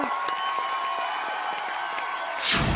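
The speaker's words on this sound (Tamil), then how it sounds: "தலைவனோட கான்பிடன்ஸுக்கு மிகப்பெரிய கைத்தட்டல் கொடுத்துருங்க." A studio audience at a television game show claps steadily in a dense, even patter of applause, with a brief louder burst of noise near the end.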